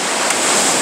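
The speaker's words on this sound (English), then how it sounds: "amidst the swirling ocean and the roar of the water" Roaring ocean water swirls around a cruise ship at sea, a steady, dense wash of noise with wind buffeting the microphone, loud and continuous throughout.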